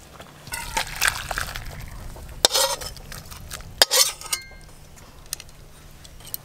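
Sour elephant apple (chalta) chutney with mustard and green chilli paste being poured from a pan, heard as close scraping, clinking metal on utensils and a soft liquid slosh with a few sharp knocks.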